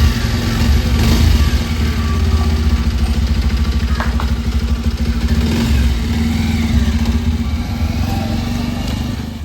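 A motorcycle engine runs steadily and loudly up close for the whole stretch, a continuous throbbing drone with slight revving swells and no voices.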